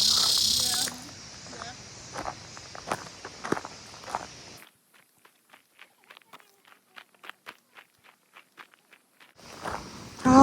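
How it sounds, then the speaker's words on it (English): Cicadas chirping beside a shady hiking trail with boulders, a series of short, regular chirps heard fairly close, first under footsteps and rustling, then more clearly on their own during a quieter stretch. "You can listen to the cicadas."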